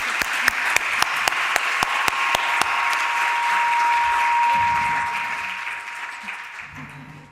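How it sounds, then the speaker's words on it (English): An audience at a conference panel breaks into warm applause, opening with a few sharp, evenly spaced claps before a full wash of clapping swells and then fades, with brief talk near the end. "let's give a very warm round of applause"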